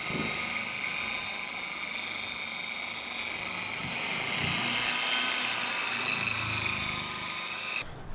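A power polisher fitted with a red ultra-soft finishing pad spreads jet sealer over a car's paint, a continuous even whirring drone that holds steady at moderate volume for the whole stretch before cutting off at the end.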